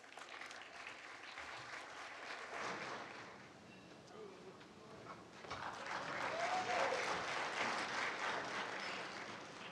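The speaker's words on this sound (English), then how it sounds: "Give him a round of applause" Applause from a conference plenary audience for a hoop dancer, rising and swelling in waves over about ten seconds, with faint voices and a brief higher tone mixed in near the middle.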